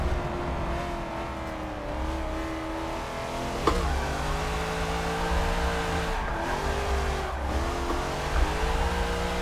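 Car tires spinning and squealing while drifting in a racing video game played on a Logitech G920 wheel, with a steady revving engine drone and shifting tire screech that continues throughout and carries no talk.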